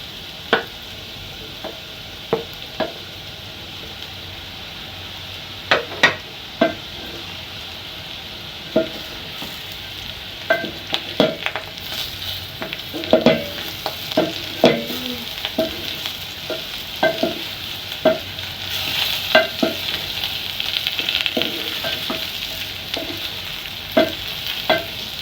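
Small pieces of sausage frying with potatoes in a pan, a continuous sizzle broken by irregular spatula clacks and stirring scrapes that grow busier toward the end.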